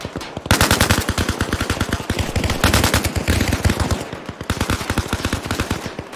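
Rapid automatic gunfire in a night urban combat battle in the Arma Reforger video game, long sustained bursts of closely spaced loud shots with only brief pauses, nearly continuous across the stretch.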